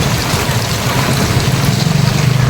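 Heavy rain pouring down in Davao City, a loud, dense, continuous wash of noise with a low rumble underneath.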